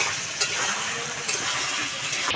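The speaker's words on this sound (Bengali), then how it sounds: "জল দিয়ে একটু নেড়ে চেড়ে দেবো 1 মিনিট মতো" Ginger paste stirred with a little water in a pan, a continuous close sizzle and hiss with a few soft scrapes and knocks of the spoon, no voices.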